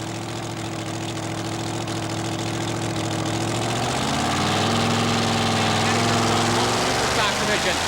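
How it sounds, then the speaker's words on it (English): A two-wheel-drive pulling truck idles in neutral at a truck pull, its engine a loud, steady rumble that swells slightly toward the end. "Ken's hands-up signal indicates to the sled crew the Midnight Express is in neutral"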